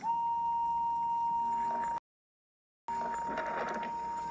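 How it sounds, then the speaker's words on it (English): A toy wooden railway engine's whistle, from a Thomas and Friends set, blows a steady, piercing single tone for about two seconds. After a short silence it returns, thinner and mixed with broadband noise. "And she blew her whistle."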